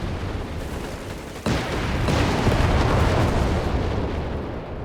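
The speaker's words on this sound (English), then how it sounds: "They have a full volley here of both Grants and their 4 guns." Tank guns from Grant tanks fire a volley in the Company of Heroes 3 strategy game: a sudden loud blast followed by dense, continuous rumbling explosions and battle noise with no pauses.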